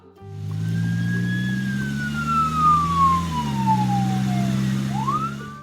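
A police car siren wails loudly with a long, slowly falling tone and a deep engine drone beneath it, ending as the pitch sweeps back upward.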